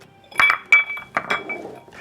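Large ice sphere knocks and clinks against a cocktail glass while a mezcal Old Fashioned is built, a few sharp glassy taps in an uneven rhythm, close and crisp.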